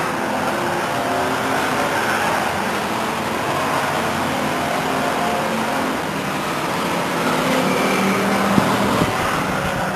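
Stock race cars lapping at Stockton 99 Speedway, a dense continuous engine roar from several cars on the track that swells slightly near the end.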